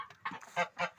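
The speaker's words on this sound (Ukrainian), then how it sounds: "Зараз гусей зажену." Domestic geese being herded into an enclosure on a farmyard honk in several quick nasal calls, close by and fairly faint.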